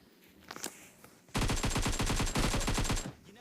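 A long, rapid automatic burst of gunfire rings out in a battle-royale shooter as a player guns down a bot, following a few softer, faint shots. The steady rattle is loud and close and stops abruptly.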